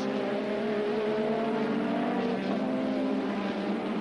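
Formula One cars racing at Brands Hatch, with several engines droning in overlapping, steadily held high-revving tones that shift slightly in pitch as they pass. The sound is continuous and moderately loud, with no voices.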